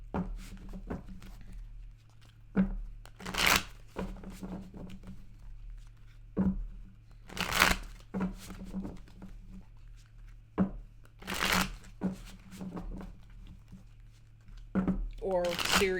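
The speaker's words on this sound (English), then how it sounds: "And I'm going to pull 3 cards." Tarot cards shuffled and handled at close range, giving a series of short papery riffles and snaps, with brief bursts of crisp shuffling between quieter card-handling moments.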